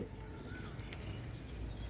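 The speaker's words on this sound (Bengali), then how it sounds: "কবুতর পেয়ারটা দেখেন, ইনশাল্লাহ আপনাদের ভালো লাগবে" A pair of Pakistani teddy pigeons coo softly, the low, faint calls sitting under a steady hiss of background noise with no talking.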